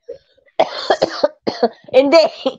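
A person coughs several times in quick, harsh bursts, close and loud, with a brief pause between fits.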